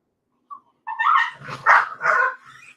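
Puppies bark and whimper up close in a short burst of yips and fussy cries, a few quick high calls bunched together after a brief quiet start.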